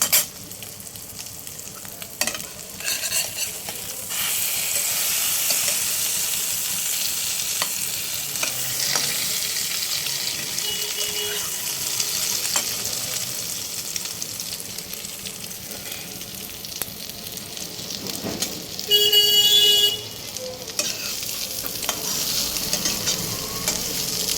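A snack fries in oil in a wok, making a continuous close sizzle and crackle broken by stirring scrapes and clinks, with a brief louder burst of spattering near the end and no voices.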